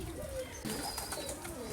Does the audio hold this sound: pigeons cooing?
yes